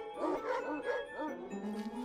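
A dog barks and yips in a video game, a quick run of several bright barks followed by a longer whining note, heard clearly and fairly close.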